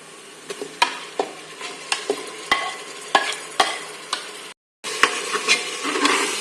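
Repeated scraping stirs of a spoon in a metal pressure cooker as mutton sautés in a soft sizzle, roughly steady strokes with a brief silent gap.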